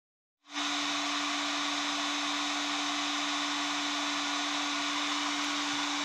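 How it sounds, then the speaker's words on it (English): A DeWalt heat gun heats a part of a Wilton vise, switching on abruptly and then holding a steady, even blowing whir with a faint tonal hum. The sound runs alone and unbroken to the end. "what I'm doing now is got my good old DeWalt heating heat gun here, and I'm heating this rascal up."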